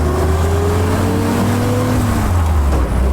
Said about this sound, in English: I hope you guys are enjoying this test drive.